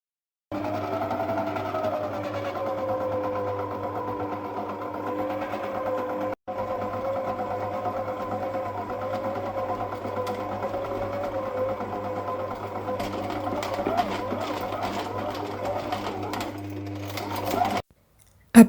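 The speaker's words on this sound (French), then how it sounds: "Mettez à présent votre robot en marche à vitesse moyenne jusqu'à obtenir une texture homogène." A food processor runs at medium speed mixing lemon meringue tart dough, giving a steady, even motor whir with a single brief break, then a slightly rougher churning toward the end before it stops.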